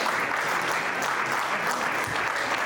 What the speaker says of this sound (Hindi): हमें तालियों की गड़गड़ाहट कम नहीं होने देना है।